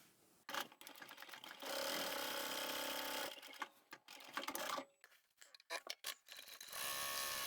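A sewing machine stitches a false bottom seam in fabric, backstitching at both ends and in the middle. It runs in steady bursts that are broken by short stops and clicks, with no talking.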